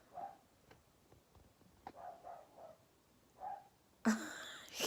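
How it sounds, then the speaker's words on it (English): A pet dog barks from another part of the house, heard faintly as several short, muffled bursts spread across the moment, followed by a louder closer clatter at the end. "I can hear him barking"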